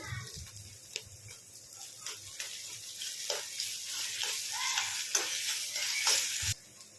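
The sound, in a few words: ginger garlic paste frying with onions in a pan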